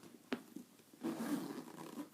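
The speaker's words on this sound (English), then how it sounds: "zipped so they meet at the top, or they can be zipped to one side, whatever you prefer." Zippers on a Dooney & Bourke Zip Zip satchel being pulled along, a quick sharp click followed by a longer rasping zip, close and soft with no talking.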